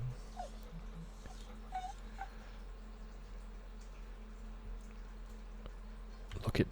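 Dusty, a dog in the Stardew Valley video game, whimpers and yips in a few short, soft bursts over a steady low game hum, with a brief louder clatter at the end.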